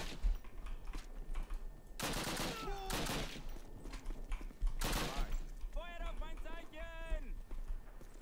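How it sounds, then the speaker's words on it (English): Gunfire in the Call of Duty video game: loud bursts of rapid automatic fire in two clusters, with scattered shots and game effects between them and a voice speaking over the action. "Let me shoot you in your feet."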